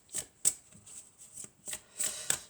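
Angel love oracle cards being shuffled by hand, a series of crisp riffling bursts with short pauses between them, close and fairly quiet, with no talking.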